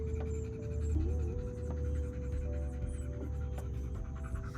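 A tired dog pants rapidly and steadily close to the microphone after a three-mile hike at Lake Parker Park in Lakeland, Florida, with faint tonal whines and a low background hum.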